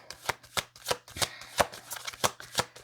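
Oracle cards being shuffled by hand: repeated sharp riffling bursts at a steady pace, roughly every third of a second, close and fairly loud with no talking.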